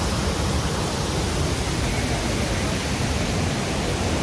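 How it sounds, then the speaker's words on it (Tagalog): Tinuy-an Falls in Bislig City, Surigao del Sur, Philippines, heard as a steady, dense roar of falling water that stays constant and loud throughout with no voices. "Yan yung falls niya."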